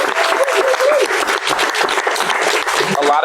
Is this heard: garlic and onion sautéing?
no